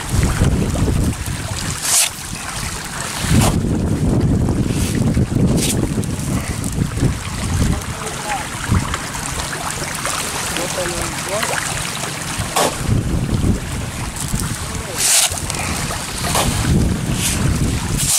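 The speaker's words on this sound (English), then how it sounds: "The wind's blowing, so throwing it up in the air and letting the wind carry it." Strong wind gusts outdoors near a fish pond, buffeting the microphone in loud, rough rushes that rise and fall throughout with a few sharper knocks.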